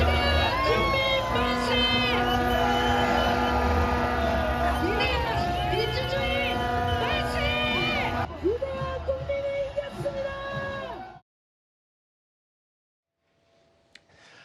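Supporters at an overnight rally over a presidential impeachment ruling erupt in loud, sustained crowd cheering and shouting with whistles, dense and close, thinning into scattered voices before falling silent.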